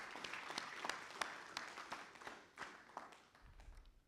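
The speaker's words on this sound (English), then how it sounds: "Kindly give her another round of applause." A conference audience claps together for a few seconds, the applause fading toward the end, with faint distant sound beneath it.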